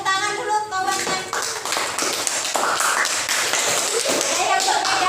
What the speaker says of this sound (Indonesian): Kasih tepuk tangan dulu kawan-kawan